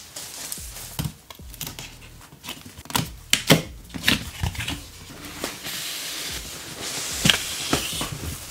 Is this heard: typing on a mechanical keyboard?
yes